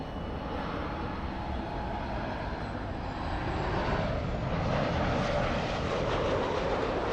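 A heavy airliner departs LAX with a steady, loud, broad jet roar that swells slightly toward the end, continuous and without voices.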